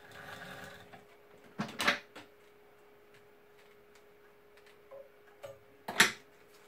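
A Windham Cub leather stitching machine sews stitches, giving two brief clunking mechanical bursts separated by soft ticks, with a faint steady hum underneath.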